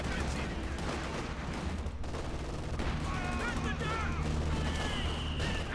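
Pack howitzer barrage in a Company of Heroes 2 match on a frozen map, with repeated booming impacts and crackling gunfire layered over a constant low rumble, fairly distant and continuous.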